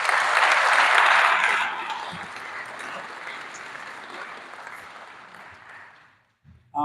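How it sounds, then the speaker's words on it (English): Round of applause at a press conference on school test results, loud at first and then tapering off before a voice begins speaking at the end. "let's give these leaders a round of applause"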